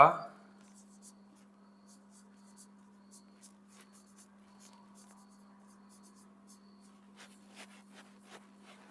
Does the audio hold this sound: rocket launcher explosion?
no